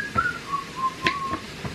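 A person whistles a short wavering tune, several clear pitched notes that slide and dip over less than two seconds, close and alone with no talking.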